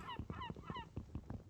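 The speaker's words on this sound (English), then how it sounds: "Heard a seagull." A seagull in the Minecraft game gives a quick series of loud, harsh, honking calls, repeated about six times in rapid rhythm with no one talking over them.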